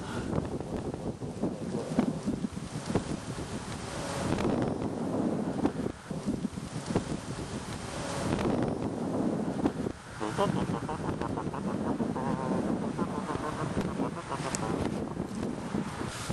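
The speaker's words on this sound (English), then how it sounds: "going to try to wait out the wind every time a gust comes out." Strong wind gusts buffet an outdoor microphone, making a continuous loud rumbling roar that swells and dips for the whole stretch with no clear speech over it.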